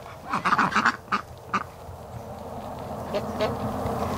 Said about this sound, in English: Let the ducks go by.